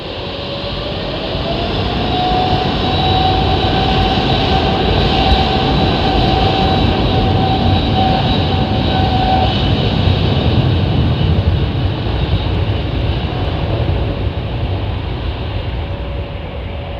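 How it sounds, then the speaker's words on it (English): An Airbus A330neo with Trent 7000 engines roars steadily and loudly for the whole stretch at London Heathrow, a broad rushing drone with a thin high whine running through it. "330neo with the Trent 7000 engine."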